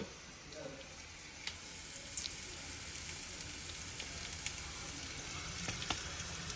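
Coriander seeds dropped into hot frying oil for vada pav, a soft continuous sizzle with a few faint crackles and pops, quiet and fairly close.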